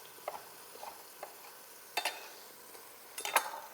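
Pepperoni strips sizzle and spit in a hot pan, faint and close, with scattered stirring clicks and a few sharper pops of a utensil against the pan.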